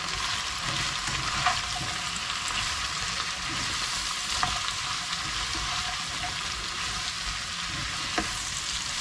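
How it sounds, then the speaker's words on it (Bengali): Flat beans with cumin powder frying and being stirred in a pan, a constant dense sizzle with occasional soft scrapes of the spatula, alone and fairly close. "জিরা পাউডার হাফ স্পুন করে দিলাম দিয়ে ভালো করে মিক্স করে নিব"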